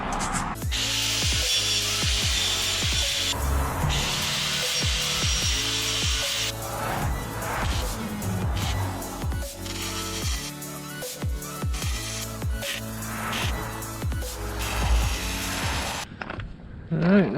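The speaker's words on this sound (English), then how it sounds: "let's go ahead and weld these things on here" Brackets being welded onto a Currie 9 inch rear end, a steady crackling, hissing buzz running in close bursts with short breaks, with a voice speaking now and then underneath.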